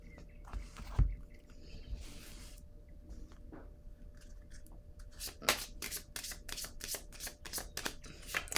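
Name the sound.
shuffling and drawing a card from a card deck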